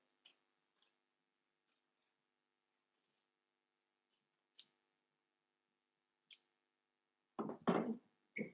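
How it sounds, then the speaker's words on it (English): Scissors trim fabric at the armhole of a bodice draped for a back block, with sparse, faint, sharp snips spaced out over quiet, then a louder rustle of fabric at the end. "you can trim a bit more off the armhole as well"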